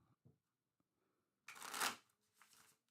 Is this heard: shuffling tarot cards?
yes